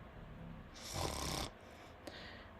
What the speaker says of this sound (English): So Tucker's snoring